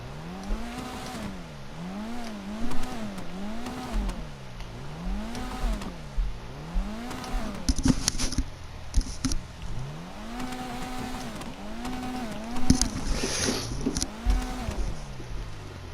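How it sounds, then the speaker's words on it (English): Vapid Retinue MK2 in GTA Online, its small engine revved repeatedly in rising and falling sweeps, close and loud, with sharp popping backfires crackling between the revs. "Get a couple revs, because why not?"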